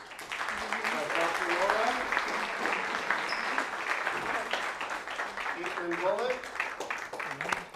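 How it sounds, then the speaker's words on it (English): Sustained audience applause for the speakers at a live business presentation, steady dense clapping throughout, with a presenter's voice talking over it. "We're going to invite maybe another round of applause for all our speakers."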